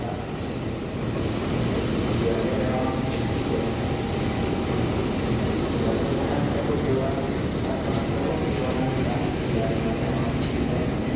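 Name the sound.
Menoreh train with CC 201 locomotive, Purwokerto depot, at night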